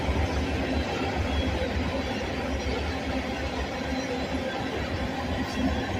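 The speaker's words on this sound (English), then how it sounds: "Frac sand train to either Sayre or Corning." Frac sand freight train, the 68N bound for Sayre or Corning, rolls past at a crossing with a steady, loud, unbroken rumble and rail noise that holds evenly from start to finish.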